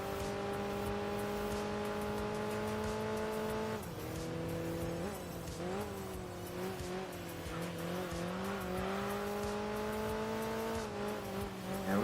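A Porsche race car engine in the Enthusia Professional Racing game holds a loud, steady high-revving drone, drops with a gear change, then surges and wavers through corners with tire squeal, continuous and close.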